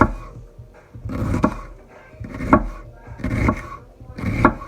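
Knife slicing onion paper thin on a board, a run of rhythmic chopping strokes in bursts, close and clear, with no talk.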